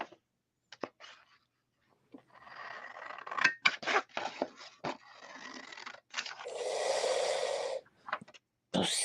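Close scissor blades snip and scrape in irregular bursts, followed by a longer rasping cut, with short silences between actions.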